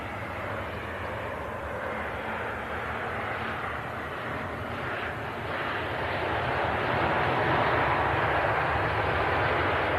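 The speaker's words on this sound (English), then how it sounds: "Ryanair 737 touching down" A Ryanair Boeing 737 airliner touches down on runway 05, its jet engine roar a broad, loud, continuous rush that swells slightly toward the end, heard from a spotting position with no talk.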